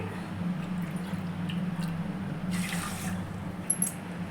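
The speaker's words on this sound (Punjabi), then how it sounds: "ਹੁਣ ਇਹਦੇ ਵਿੱਚ ਆਪਾਂ ਡੇਢ ਕੌਲੀਆਂ ਹੀ ਪਾਣੀ ਦੀਆਂ ਪਾ ਦਵਾਂਗੇ" Water pours and splashes in a brief gush into sugar for gulab jamun syrup, with a low steady hum underneath and a faint clink near the end.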